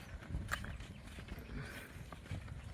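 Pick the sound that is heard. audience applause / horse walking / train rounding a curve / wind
horse walking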